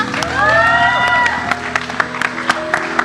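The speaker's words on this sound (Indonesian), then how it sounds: "boleh minta tepuk tangannya buat Ola." Studio audience applause on an Indonesian TV chat show, a burst of clapping and crowd noise with some cheering at the start, thinning into scattered claps toward the end.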